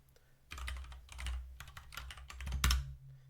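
A computer keyboard clicks close by in quick, uneven bursts of keystrokes, with a low hum running underneath and one sharper, louder clack near the end.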